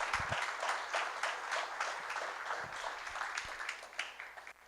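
A church congregation applauds during a sermon, a soft, diffuse wash of many hands clapping heard from a distance, steady and then fading toward the end.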